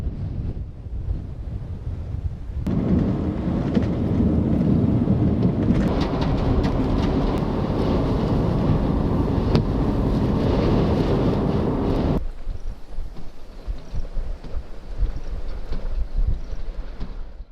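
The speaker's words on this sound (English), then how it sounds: "This line of storms developed a lot of blowing dust and accelerated in its forward motion, eventually overtaking me near Fort Sumner" A monsoon thunderstorm line with strong wind and blowing dust near Fort Sumner, New Mexico, loud rushing wind buffeting the microphone and roaring for several seconds before easing to gusty rumbling, with no talk.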